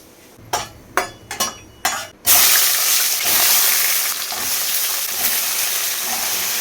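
Five-spice seeds and dried red chillies dropped into hot oil in a heated kadai, a few sharp knocks first, then a sudden loud sizzling burst that settles into a steady crackling fry.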